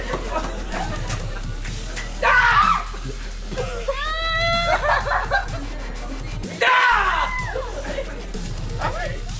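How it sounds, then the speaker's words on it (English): A person shrieks in fright at a Halloween scare prank, two sharp loud screams cutting through a noisy outdoor scene with laughter and chatter, plus a dog barking in the background. "When people come up from behind you and scream at you."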